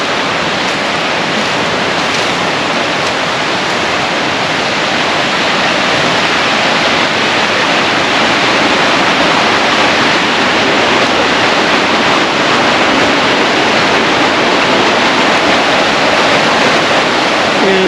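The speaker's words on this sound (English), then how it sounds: "Oh, there's some rapids right there." Rapids in a forest stream at Price Paradise Preserve in the Poconos make a loud, continuous rushing roar of water, close by and steady, with no talking.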